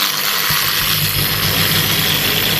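Bosch angle grinder running on reduced 160-volt supply at its lowest speed setting, a steady loud motor drone with a low hum and vibration throughout, no talk over it.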